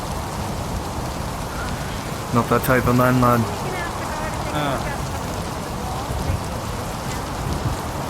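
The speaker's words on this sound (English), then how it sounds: "Oh, this rain." Steady rain pours in a video game scene, a dense continuous hiss throughout, with a voice speaking briefly over it.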